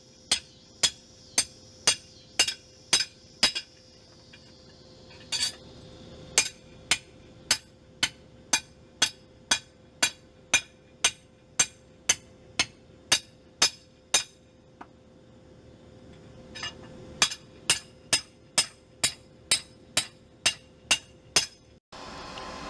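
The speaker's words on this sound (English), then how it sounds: "I'm beveling the back edge first before I bevel this edge" Steady metallic hammer blows ring out at the forge as a bevel is hammered onto an orcish battle axe, struck in fast even runs of about a dozen hits each with brief pauses between, close and loud over a low constant hum.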